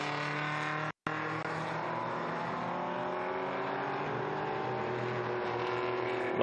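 Historic race cars, among them a Ford Escort, drone steadily at the Estoril circuit during an endurance race, a continuous mid-distance engine roar with shifting pitch and one brief dropout.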